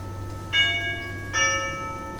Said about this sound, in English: As the doorbell rings,